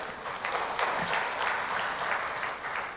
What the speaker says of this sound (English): Let's give a big round of applause to Marwan to start with.